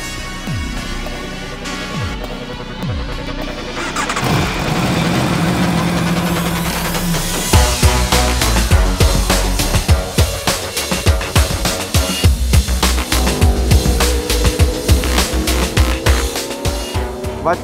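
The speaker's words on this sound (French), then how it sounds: "La moto est beaucoup plus puissante." A 217-horsepower, 199 kg motorcycle on a track revs and runs, the engine note rising into loud, rapid, rough pulsing with sharp popping bursts, close and dominant throughout.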